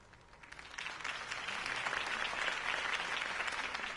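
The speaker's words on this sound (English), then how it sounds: "If only Mr. Wayne, my campaign's largest backer, could have heard that applause" Crowd applause in Batman: The Telltale Series swells and continues steadily, a dense wash of clapping that builds slightly and holds at moderate level.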